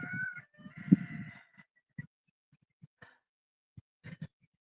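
Chickens cluck close by, a burst of throaty clucking at first, then scattered short clucks and squawks separated by quiet gaps.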